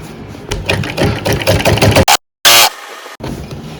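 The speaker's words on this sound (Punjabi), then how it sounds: "ਪਹਿਲਾਂ ਆਪਾਂ ਨੇ ਸਿੱਧੇ ਪਾਸੇ ਬਿਲਕੁਲ ਕਿਨਾਰੀ ਤੇ ਸਿਉਣ ਲਾਉਣੀ ਹੈ ਜੀ" Electric sewing machine stitching the edge seam of a simple suit, loud rapid mechanical chatter in bursts with a brief stop and restart.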